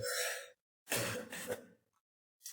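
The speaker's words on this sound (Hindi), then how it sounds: "ज्यादा ही खांसी होगी भाई" A few harsh, close coughs and throat-clearing bursts, separated by short silences.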